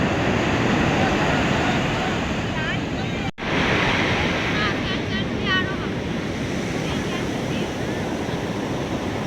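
Continuous roar of surf breaking on Puri beach at sunrise, with wind buffeting the microphone and a few faint distant voices.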